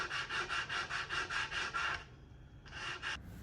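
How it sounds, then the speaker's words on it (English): Paint is sanded off a wooden Lane cedar chest with 60 grit sandpaper in quick, even back-and-forth strokes. The rhythmic rasping is close and fairly quiet. After a short pause near the end, a couple more strokes follow. "I started removing the paint with a 60 grit sandpaper"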